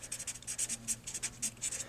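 Chalk or marker writing on a board during a math lesson, a quick series of soft, short scratchy strokes in an irregular rhythm, close and faint.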